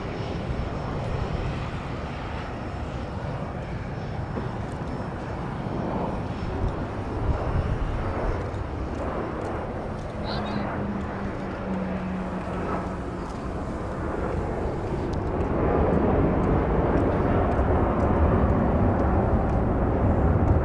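A Boeing 737-700 airliner rolls on runway 31 Right at Dallas Love Field, its engines a steady, broad roar that swells louder toward the end, heard from nearby.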